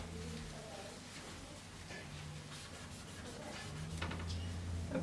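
Paper rubs and scrapes softly as a portrait drawing is wiped back, a quiet, uneven back-and-forth friction with faint hums in the background.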